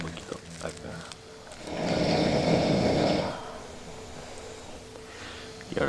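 A person snoring in a ranch house at night, one loud, rough inhaled snore swelling in the middle between quieter breathing, close by, with faint background murmurs.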